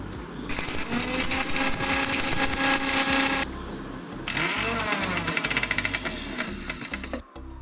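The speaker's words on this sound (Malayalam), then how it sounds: "ഈ വറുത്തെടുത്ത ഇൻഗ്രീഡിയൻസ് മിക്സിയുടെ ജാറെടുത്ത് ഒന്ന് പൊടിച്ചെടുക്കുക." A mixer grinder whirs loudly, grinding roasted cumin, pepper and cardamom in two long runs split by a brief stop, its motor roar steady and close with a slight rattling pulse before it winds down.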